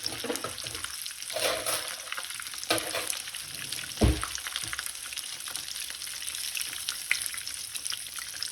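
Cordon bleu chicken fries in hot oil in a pan, a continuous crackling sizzle heard up close, with occasional scraping and clinks as the pieces are turned.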